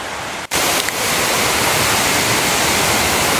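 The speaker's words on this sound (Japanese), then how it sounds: "いやー、着きましたね、 滝。" A waterfall in Hinohara village, Tokyo, roars in a loud, unbroken rush of water, close and steady throughout after a brief dip at the start.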